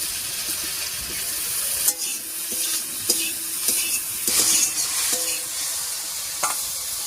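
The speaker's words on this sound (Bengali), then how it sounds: "ঝিঙেটা ভাজা হতে থাক" Ridge gourd slices seasoned with salt and turmeric fry in a pan, giving a soft, steady sizzle broken by several sharp clinks and scrapes of a utensil stirring.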